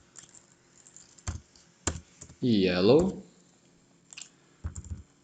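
Computer keyboard typing during HTML and CSS coding, heard as scattered clicking key bursts, a few strokes at a time with pauses, while a voice briefly speaks in the middle.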